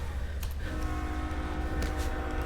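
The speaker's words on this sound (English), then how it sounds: "There's our lovely train horn." A train horn sound effect blares in a gaming stream, a sustained multi-tone chord entering partway through and holding over a dense, loud background bed.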